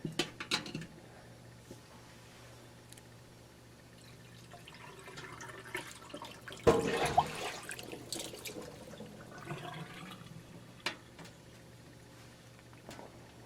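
Water gurgles and rushes in a brief burst as it drains, surrounded by quiet trickling and occasional drips.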